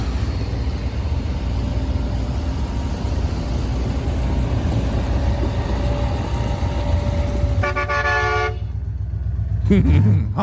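Car horns honking in support of a farmers' protest over the steady rumble of idling traffic, with one long horn blast near the end.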